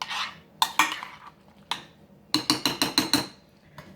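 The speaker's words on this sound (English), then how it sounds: "but stir your ham in" Spoon scraping and clinking against a dish while ham is stirred into creamy microwave pasta, with a few scattered knocks followed by a quick run of six rhythmic clacks, close and fairly loud.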